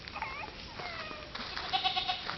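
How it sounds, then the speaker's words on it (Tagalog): A goat bleats several times in quick succession on a rural property in Mindanao, with wavering calls close by and some outdoor background noise. "Wow, may kambing."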